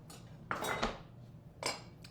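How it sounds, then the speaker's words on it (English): A kitchen serving bowl picked up and set down on a counter, giving a couple of light ceramic clinks and clatters, close and quiet with no talking. "Let me grab serving bowl."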